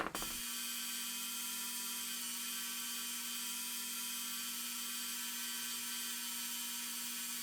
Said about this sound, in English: we're going to just kind of clean it up a little bit with a brass wire wheelie